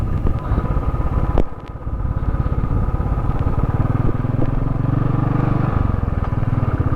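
Royal Enfield Thunderbird 350 motorcycle on a ride in North Sikkim in bad weather, a loud close single-cylinder thump with steady rhythmic pulsing, briefly dipping near the start and then settling back into a steady idle-like beat.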